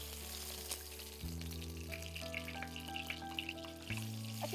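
Fish sizzles steadily as it is lightly fried in a pan for a Bengali aam birunir jhol, with the close hiss of oil punctuated by occasional clinks and taps of utensils.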